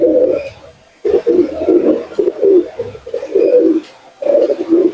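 A male pigeon coos close by in repeated throaty, rolling bursts separated by short pauses, with no talk over it.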